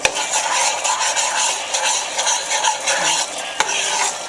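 A roux for turkey neck gravy being stirred continuously in a pot, with a steady scraping swish of utensil against the pan under a soft sizzle and one sharp clink near the end, no talking.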